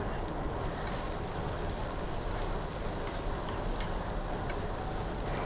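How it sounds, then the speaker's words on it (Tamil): Continuous crackling sizzle of chopped onions sautéing in hot oil on a griddle, steady and close, with no talking. "எண்ணெய் சூடாயிட்ட அப்புறம் நறுக்கி வச்ச வெங்காயத்தெல்லாம் அதில் போட்டுட்டு நல்லா வதக்க ஆரம்பிச்சிட்டேங்க"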